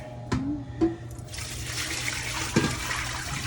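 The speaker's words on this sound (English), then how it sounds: "We're gonna open up the valve so that we can rinse this bad boy out." Water rushing through the open drain valve of a commercial deep fryer vat being rinsed of oil, a steady gushing splash that swells in after a few clanks and continues close and loud.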